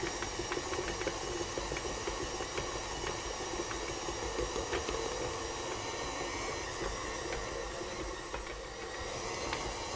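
A stand mixer with a dough hook kneading brioche dough, a steady whirring motor drone with a dense hiss and faint rhythmic ticking, continuous and close throughout.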